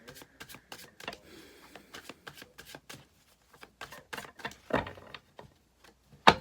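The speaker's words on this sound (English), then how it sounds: "Just shuffle this one more." Oracle cards are shuffled by hand in a quiet room, a series of quick, crisp riffling and tapping bursts with short pauses, close and soft.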